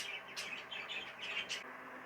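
Cock birds in an aviary flight give a short run of quick, bright chirps and tweets, fairly faint and close together over a soft background hum.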